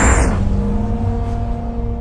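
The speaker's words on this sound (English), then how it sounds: "I will perform an acceleration from standstill, wide open throttle." An 1,800-horsepower Bugatti hypercar launches from standstill at wide open throttle on a winter test track in Arjeplog, Sweden, giving a loud, steady engine roar that holds for about two seconds with no talk.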